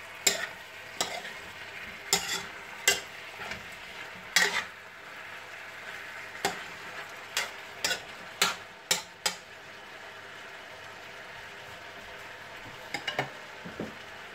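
Chicken sautéing in a pan, with a low background sizzle under a series of sharp utensil scrapes and clacks against the pan at an irregular pace, easing off toward the end.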